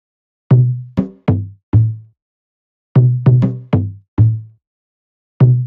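Conga and bongo percussion loop played alone, sparse hand-drum hits with resonant low tones in two short clusters separated by a pause, close and dry, no voices.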